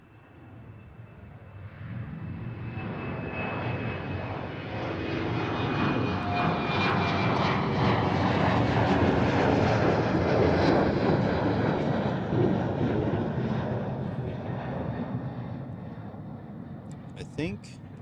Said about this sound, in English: So first up, from Amsterdam to Dublin, Aer Lingus, A320, 20 years old.